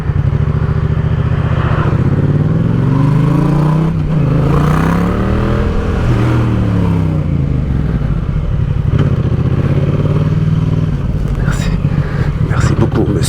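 A car passes on the road close by, its engine rising and falling in a loud revving sweep, with people talking over it and some clattering.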